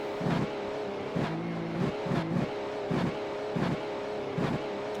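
An open-wheel race car in the iRacing sim at Watkins Glen slowing toward pit road, its engine note dropping in a series of repeated downshift blips and revs, loud and close, with no talk.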